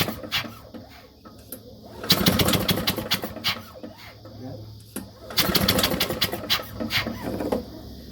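A Victa two-stroke Corvette Series 500 lawn mower under repair being pull-started. It gives two bursts of rapid sputtering and cranking, up close and loud, separated by quieter moments with a few low voices.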